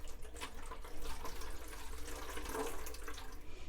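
Rainwater from a collection barrel pours through a hose into a watering can in a greenhouse, a steady broadband rushing and splashing that runs continuously and fairly loud for the whole stretch, with no talking.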